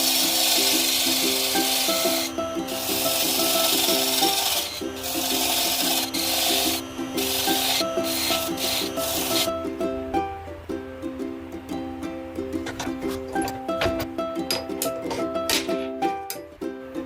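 Wood being hollowed from the inside on a machine, a steady close scraping and rubbing of the cutter against the wood with a bright hiss for the first half, then a lower grinding with irregular clicks and knocks.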